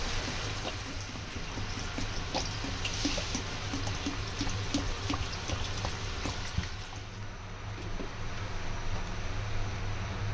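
Water poured into cooked-down spices in a pan for a spicy Bengali tangra fish curry hisses and sizzles in a steady, continuous wash of close noise with no voices.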